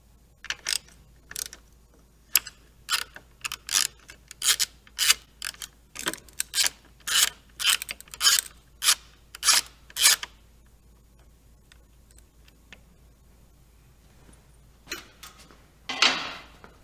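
A ratchet fitted with a 1/2 inch socket backs off the turn signal nuts on a 2014 or newer motorcycle, making a quick run of close, sharp clicking bursts that stop, then return briefly near the end.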